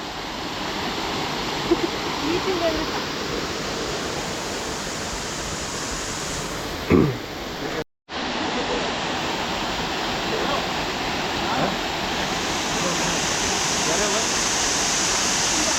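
A forest waterfall pours in a constant, full broadband rush that stays loud and even throughout, cut by one very brief dropout midway, with a faint voice or two barely surfacing.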